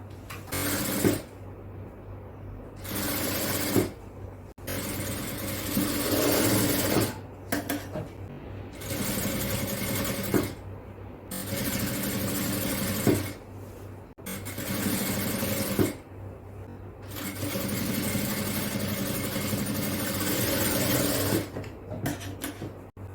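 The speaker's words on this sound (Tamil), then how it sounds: "இதே போல அடுத்த பக்கத்துலயும் தச்சு முடிக்கலாம்." A sewing machine stitches a kids' frock-style night dress in repeated bursts of rapid mechanical whirring, separated by short pauses. Each run lasts a few seconds and sounds close and moderately loud. No one speaks.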